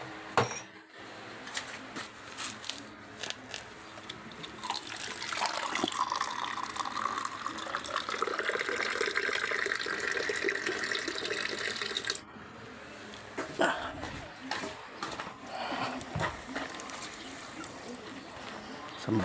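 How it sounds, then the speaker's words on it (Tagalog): Water pours steadily into a cooking pot with chili already added, a continuous running splash lasting several seconds amid kitchen clatter, tapering off before a few clinks. "Tapos lalagyan natin siya ng tubig."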